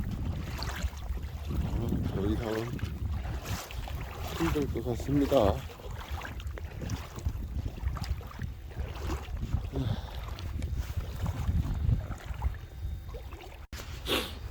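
Steady low wind rumble buffeting the microphone on open mudflats during a coastal octopus-gathering outing, continuous and gusty beneath someone talking.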